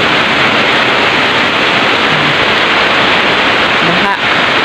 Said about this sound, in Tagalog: Kaya lang lakas ang ulan.